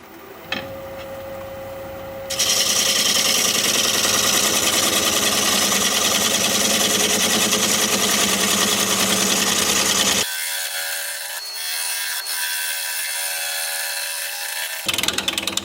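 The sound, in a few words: wood turning on a lathe, cutting a root piece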